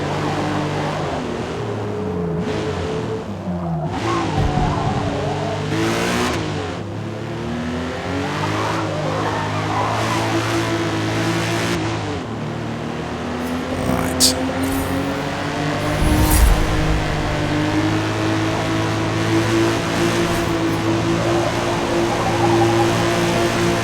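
Race car engine in the Forza Motorsport video game revving hard and shifting through gears, a loud continuous drone with rising and falling pitch sweeps and brief throttle lifts, no talking.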